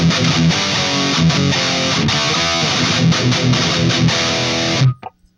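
Mesa/Boogie Mark IV guitar amp driven with the bass knob set very high, a loud, thick distorted riff with chugging palm-muted chords, ending abruptly with a short ringing tail.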